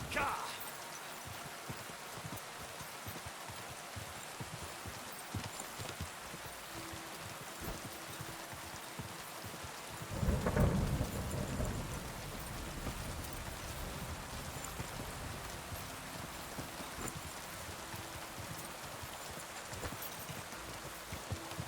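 Steady hiss of heavy rain in the video game Kingdom Come: Deliverance II, with a rumbling thunder burst partway through, over a constant noisy background.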